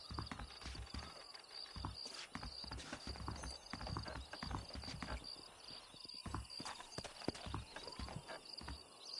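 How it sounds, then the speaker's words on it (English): Horse hooves clip-clop steadily in a Red Dead Redemption game scene, with an occasional whinny and scattered thuds over a busy ambient background. "Get away from that horse."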